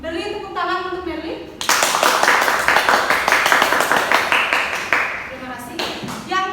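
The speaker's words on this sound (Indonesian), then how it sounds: "Beri tepuk tangan untuk Merly." A classroom of students claps for a classmate, a dense burst of close, loud hand claps lasting several seconds, framed by a teacher's speech before and after.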